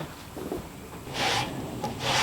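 A hand saw rasps back and forth through a piece of oak hardwood, steady scraping strokes close up with two louder pushes near the end.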